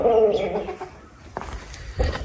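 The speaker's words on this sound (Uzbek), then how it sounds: "Ajoyib yapon tovuqlar" Japanese chickens cluck and murmur close by in short bursts, with a louder cluck at the start and a few sharp sounds later.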